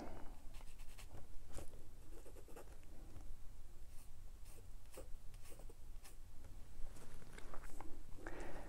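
Pencil sketching the sides of a cone on paper: quick scratchy strokes in an uneven run, close and quiet, with no talking.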